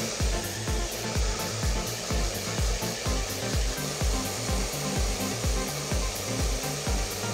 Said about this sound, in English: we're gonna go ahead and blow dry